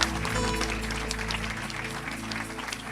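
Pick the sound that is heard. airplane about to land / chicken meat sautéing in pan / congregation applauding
congregation applauding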